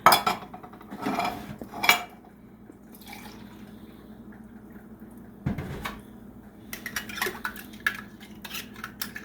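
A metal soup can is rinsed in a kitchen, with clinks of metal and ceramic and a short stretch of running water, fairly quiet and close.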